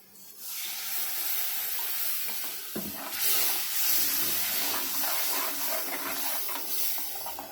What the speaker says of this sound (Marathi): थोडं आपण मिक्सरमधलं पाणी टाकणार आहोत मिक्सर धुवून घेणार आहोत तो